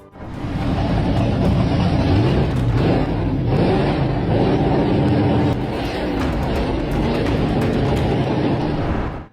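A 6.3-litre V8 engine roars loudly and steadily for about nine seconds, its broad, rumbling tone holding high with only slight surges and dips.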